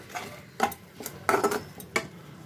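A spoon clinks and scrapes against a pan in a few short, uneven strokes while pumpkin is stir-fried with spices, with only a faint sizzle underneath and no talking.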